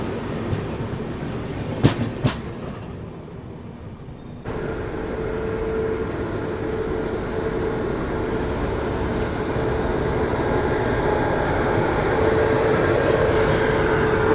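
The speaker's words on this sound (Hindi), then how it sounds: "देखो अभी वाराणसी जंक्शन ये पहुंच रही है स्वतंत्रता सेनानी एक्सप्रेस।" The Swatantrata Senani Express pulls into Varanasi Junction: a steady, loud rolling rumble of the train with a couple of sharp knocks early on, then a sudden shift to a denser, continuous roar.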